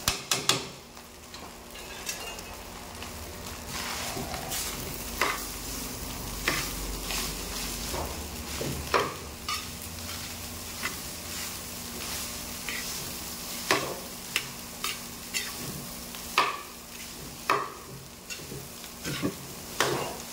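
Fried rice being stirred in a hot pan, with a steady sizzle under repeated sharp scrapes and clicks of the utensil against the metal, close and fairly loud, no voices.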